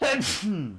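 A single short sneeze bursts out close to the microphone, followed immediately by a brief vocal tail, with a man calling out around it.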